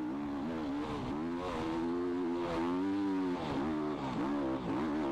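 Harley Davidson Fatboy motorcycle in the video game Spintires MudRunner, its engine held at a steady high rev with a wavering, buzzy drone that surges slightly and stays loud throughout, no talking.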